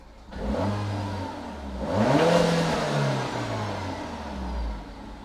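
A Peugeot 308 GTI engine with a new intercooler hums at idle, then revs up and slowly settles back down, close and steady.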